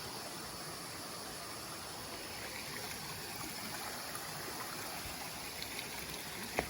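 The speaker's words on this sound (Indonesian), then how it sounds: "kita melewati sungai kecil" A small river stream crossed on the Mount Lawu hiking trail via Candi Cetho, near Candi Ketek, rushes in a steady, close wash of flowing water with no break throughout.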